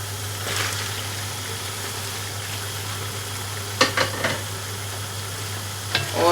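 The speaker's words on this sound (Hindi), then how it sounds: "सिर्फ हल्का सा फ्राई होने देना है" Shrimp added to golden ginger and onion, frying in a pan for prawn biryani: a steady low sizzle under a constant hum, with a few sharp clatters of a utensil near the end.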